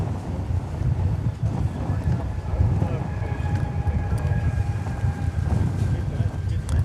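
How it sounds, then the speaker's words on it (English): Gusting wind buffets an outdoor microphone at Dallas Fort Worth airport, a steady low rumble of wind noise filling the whole stretch. "Getting a gust here."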